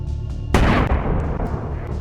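A car bomb packed with explosives detonates in Pulwama, Jammu and Kashmir, a single loud, deep boom that breaks out suddenly over a low rumble and rolls on with a sustained roar.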